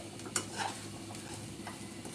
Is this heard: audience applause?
no